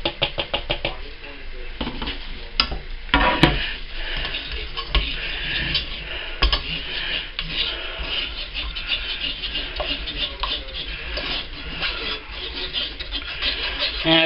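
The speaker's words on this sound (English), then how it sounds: "I'm going to sieve back through one more time over here" Pumpkin puree is pushed through a sieve with a continuous scraping and rubbing, a rough, repetitive grating that stays close and loud throughout with no voice over it.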